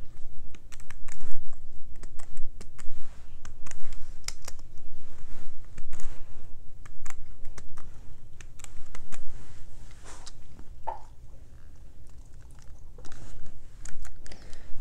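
Keys clatter steadily on a computer keyboard as code is typed on a Kano computer kit, a continuous close run of quick clicks with irregular rhythm and no voice.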